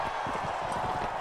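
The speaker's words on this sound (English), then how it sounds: "At least we're on a horse this time." Horse hooves clip-clop steadily in the Mount and Blade video game, a quick even rhythm of muffled hoof beats over a constant background hum during a tournament fight.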